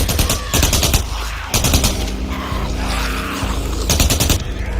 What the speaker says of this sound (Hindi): गोली चलने की आवाज आ रही उधर से